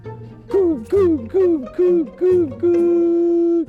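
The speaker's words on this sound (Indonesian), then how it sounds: "Ini burung perkutut ya." A zebra dove coos repeatedly up close, five short rising-falling hoots in a steady rhythm ending with one longer held note.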